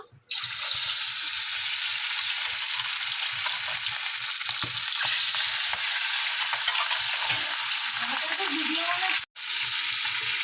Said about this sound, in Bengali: মাছগুলো দিয়ে দিচ্ছি এইভাবে সব মাছগুলো ভেজে নেবো